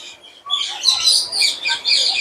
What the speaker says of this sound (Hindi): ये सारे ये पैरट्स बहुत उड़ रहे हैं यहाँ। ग्रीन पैरट जो है,